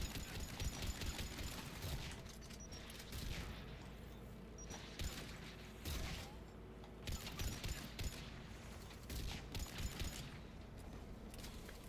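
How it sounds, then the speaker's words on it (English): AA guns firing in Mass Effect 3, rhythmic bursts of anti-aircraft fire pounding at regular intervals amid a busy battle soundscape, fairly quiet overall. "AA guns ahead"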